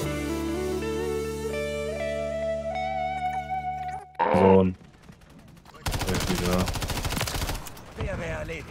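Modern Warfare III gameplay carries a burst of gunfire and a longer run of rapid automatic fire, separated by short gaps, with music and game sounds beforehand.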